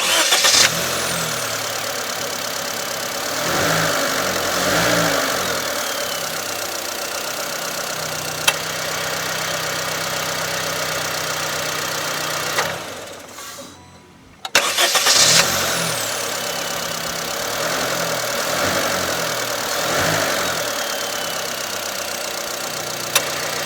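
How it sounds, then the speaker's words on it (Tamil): A Honda Amaze car engine running steadily at idle, a constant mechanical hum with slight revs, briefly cutting out near the middle before resuming; no voices. "என்ஜினோட ரிஃபைன்மெண்ட் எப்படி இருக்குது அப்படின்றத பார்த்துடலாம்"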